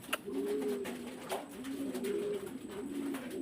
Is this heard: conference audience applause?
no